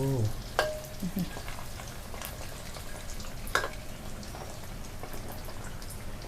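Thai spring rolls deep-frying in oil, a steady soft crackling sizzle throughout, broken by a couple of sharper clatters from stirring or moving utensils.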